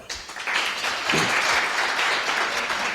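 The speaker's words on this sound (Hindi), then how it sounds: "फिर भी ताली बजा दो आप।" A room full of people at a passive-income session breaks into applause, a continuous wash of many clapping hands that stays steady throughout.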